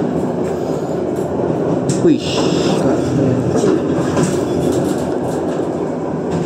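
The Argo Parahyangan train on the Jakarta–Bandung line runs through a tunnel, heard from the rearmost economy car as a loud, enclosed, steady rumble of wheels with faint clatter, broken once by a brief spoken exclamation.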